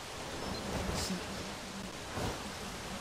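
Rain in the video game Jurassic World Evolution, a soft, continuous hiss of falling rain with slight surges, steady and moderately quiet.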